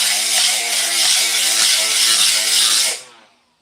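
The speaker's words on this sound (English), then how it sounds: "This is the right angle grinder. I do run a 3-inch disc on it, not a 2-inch disc." A cordless right-angle grinder with a 3-inch 36-grit disc knocks down high spots on bondo over custom mirrors. It gives a loud, steady, close whine that cuts off abruptly as the motor winds down.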